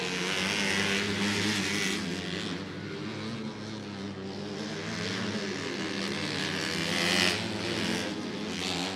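Race cars roar around the track at a motorsports park on the last lap, a loud continuous engine drone that swells and fades as cars pass, with no talk.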